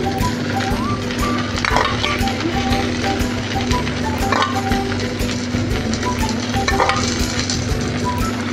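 Thalipeeth, a mixed-flour flatbread topped with sesame, sizzles in oil on a pan with a steady, loud frying hiss and occasional light clinks, no voices.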